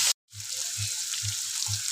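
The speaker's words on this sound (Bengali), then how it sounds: "উচ্ছেটা আমার প্রায় ভাজা হয়ে এসেছে।" Bitter gourd fries in a pan over a low gas flame with a steady bright sizzle, broken by soft regular thumps about twice a second.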